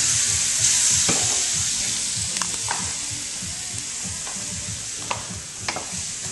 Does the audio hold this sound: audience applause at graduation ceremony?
no